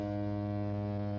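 A steam ship's horn in the Great Ace Attorney video game sounds a steady, deep, droning blast that holds evenly for over a second, with no other sound alongside it.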